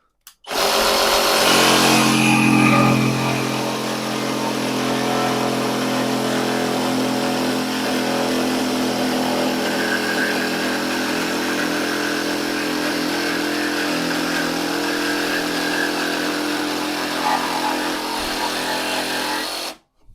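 A Grosser GJS 130 cordless jigsaw runs at maximum speed while cutting through a board, a loud close steady buzzing whine that holds for nearly twenty seconds before stopping abruptly.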